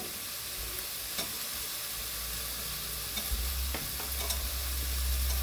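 Potatoes with fenugreek leaves fry in a pan for methi palav, a steady close sizzle broken by a few soft stirring scrapes and taps.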